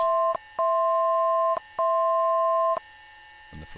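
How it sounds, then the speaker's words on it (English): Autopilot self-test in a Cessna 208 Grand Caravan cockpit: two long steady dual-pitch tones, each about a second, separated by short clicks, loud and close, followed by a brief rustle. "We push the little test button here, and it will do its little self-test routine."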